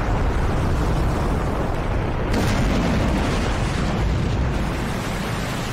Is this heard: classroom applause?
no